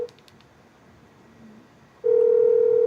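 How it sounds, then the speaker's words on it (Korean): A steady telephone dial tone sounds loud and continuous after a short stretch of quiet line hiss, as an outgoing call is placed. "전화를 한번 해서 물어보겠습니다"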